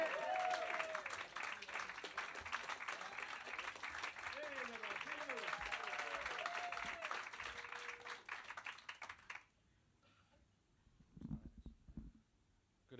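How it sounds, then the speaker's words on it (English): Comedy club audience at Hot Water Comedy Club clapping and cheering with whoops over a steady wash of applause, then dying away to near silence before a voice speaks. "Got one more act left in this section, so keep that applause going."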